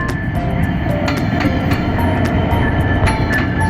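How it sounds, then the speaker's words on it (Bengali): A train rolls out from Tangail station in Bangladesh, its loud, close rumble broken by a regular clack of wheels over rail joints and a few faint high tones. "সো অবশেষে আমরা ট্রেন জার্নি শুরু করলাম"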